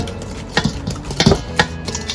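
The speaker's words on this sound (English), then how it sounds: "Once you got all those ingredients in your bowl, we're going to mix it up just like this" Peach cobbler ingredients are stirred together in a bowl, giving irregular clinks and taps of a utensil against the bowl with soft scraping between them, close and fairly loud.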